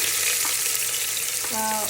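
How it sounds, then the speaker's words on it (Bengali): Onions hitting hot oil for a mutton curry give a steady, dense sizzle that fills the whole two seconds, with a brief stir or scrape near the end. "সো ফার্স্টে আমি পেঁয়াজ দিয়ে দিচ্ছি"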